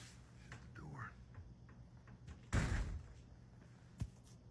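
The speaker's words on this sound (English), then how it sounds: "Shut the door." A door is shut once with a solid thud midway, close and fairly loud against a quiet outdoor background, with a faint knock-like tap shortly after and soft voices around it.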